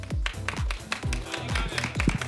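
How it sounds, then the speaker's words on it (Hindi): Rhythmic clapping from an audience as guests walk onto a stage at an indoor show, a steady run of sharp, close hand claps with some tapping thumps underneath. "तालियां बजते रहनी चाहिए जब तक स्टेज पे आती हैं"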